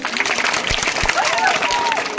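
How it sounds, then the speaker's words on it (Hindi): A crowd at a school event for a Beti Bachao Beti Padhao programme claps loudly and steadily for a couple of seconds, with some voices mixed into the dense applause. "एक बार जोर से तालियां।"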